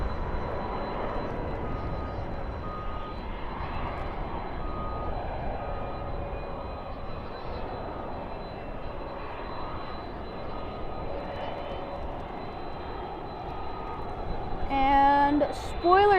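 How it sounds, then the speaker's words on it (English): An Airbus A319 arrives at night at Dallas/Fort Worth airport, its engines making a continuous broad roar at a fairly distant, steady level, with a few electronic beeping tones near the end. "there's an arrival coming in. That is another Airbus A319."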